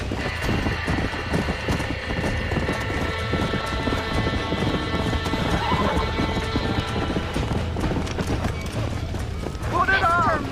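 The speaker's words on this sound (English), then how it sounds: "We gotta get to the horse!" Horse hooves clip-clopping at a gallop with whinnying neighs in the Red Dead Redemption video game, a steady loud rhythm under frantic talk, a sharp neigh rising near the end.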